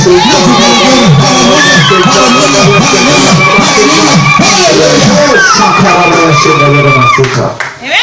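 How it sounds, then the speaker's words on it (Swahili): A church congregation claps and cheers for Jesus, loud rhythmic clapping and whooping voices filling the room close by, continuous with singing-like vocal tones before fading out at the very end. "Piga Yesu makofi."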